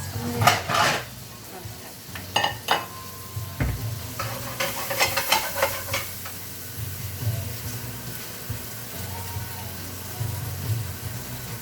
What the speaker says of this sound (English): just frying off these spring onions under a good amount of heat